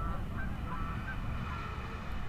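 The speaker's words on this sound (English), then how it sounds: "Tundra swans, love to see tundra swans." Tundra swans calling at a thawing lake with frozen fields nearby, a continuous distant chorus of honking and whooping voices from many birds over low wind noise.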